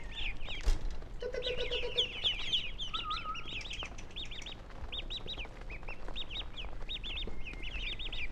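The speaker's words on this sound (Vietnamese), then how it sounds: "đây là 100 con vịt mà tôi vừa mới mua về đấy, rất là nhiều vịt luôn" A large flock of about a hundred newly bought ducks quacks and calls in repeated rapid bursts, a busy overlapping chatter that goes on throughout, with a sharp knock near the start.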